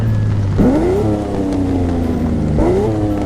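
A Lamborghini Aventador LP700-4 engine in the game The Crew 2 revs hard twice, the pitch sweeping up sharply each time over a steady low idle, loud and close, with a synthetic game-like quality.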